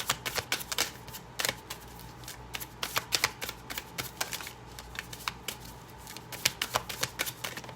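Tarot cards being shuffled by hand for a reading: a quiet run of crisp, irregular riffling snaps and flutters, close up, arriving in uneven bursts with no voice.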